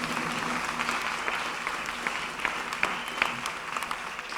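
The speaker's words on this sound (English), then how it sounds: "please give a big round of applause" Audience applause at a church mass, a steady wash of many hands clapping at moderate distance, fairly even throughout with a few sharper claps standing out.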